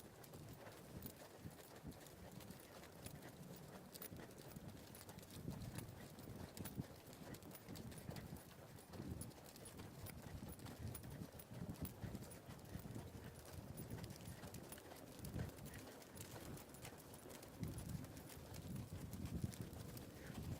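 Hooves clip-clop steadily on the ground as a team of driven horses moves along, the rhythmic beats continuing throughout over a rough, noisy outdoor background, faintly recorded.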